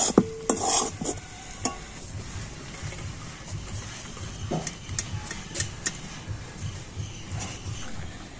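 Sweet milk and sugar mixture being stirred in a pan, with a steady scraping and clinking of a spoon against the metal and a faint sizzle underneath, close and moderately loud with brief sharper knocks.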